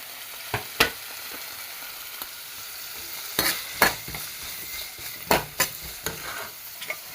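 Ginger, garlic cloves, kanthari chilies and coconut fry in a pan over a soft sizzle, broken by a string of sharp clatters and knocks as pieces are added and stirred.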